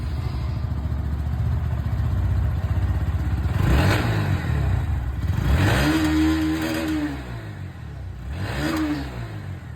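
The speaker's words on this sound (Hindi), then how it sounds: "सबसे पहले दोस्तों यहाँ पर जो एग्जॉस्ट है NS 125 उसकी यहाँ पर सुन लेते हैं।" A Bajaj Pulsar NS125 motorcycle's exhaust revs up in several loud, close bursts, each rising and falling back to a steady idle between them.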